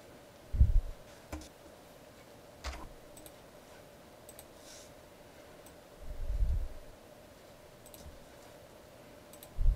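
Sparse computer mouse clicks while working in Fast Track Estimating software, a few soft, isolated taps spaced seconds apart over a quiet room hum, with no voices.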